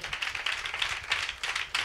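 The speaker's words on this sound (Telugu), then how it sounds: "ఇప్పుడు కొట్టండి చప్పట్లు గట్టిగా," An audience claps loudly during a Telugu church sermon, a dense, steady patter of many hands at close range with no talk over it.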